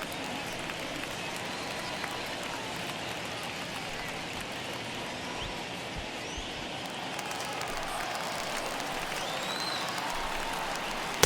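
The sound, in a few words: baseball stadium crowd cheering in video game MLB The Show 21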